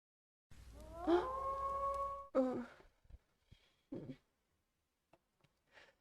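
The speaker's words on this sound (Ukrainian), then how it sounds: "Ой, якась собака виє." A long, mournful dog howl in a Minecraft zombie apocalypse game rises and wavers, followed by a shorter second howl and a few faint scattered sounds in an otherwise quiet scene.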